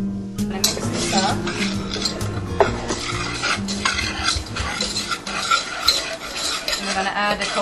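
Coconut being tossed and roasted in a pan: busy, close clatter and scraping of utensil against metal, uneven and continuous, with faint rattling over the whole stretch.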